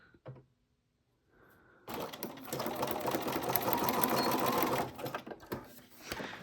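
A sewing machine runs a zigzag stitch on paper in one continuous loud mechanical whir of about three seconds. Brief handling clicks come before and after it.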